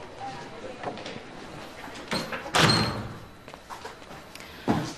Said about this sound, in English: Could you close the door, please?